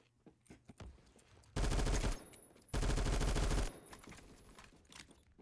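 Two sustained bursts of rapid automatic fire from a C782 assault rifle in the video game Phantom Forces, loud and dense, each lasting about a second, separated by quieter clicks and movement.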